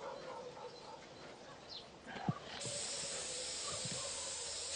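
Blue disinfectant spray is applied to a cow's stitched surgical wound: a quiet stretch gives way midway to a steady, close aerosol hiss that continues to the end.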